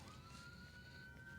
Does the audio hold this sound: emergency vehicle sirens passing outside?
yes